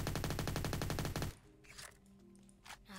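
Rapid SMG gunfire in the Undead Defense Tycoon video game, a loud continuous burst of closely spaced shots for over a second that cuts off abruptly, leaving quieter game sounds behind.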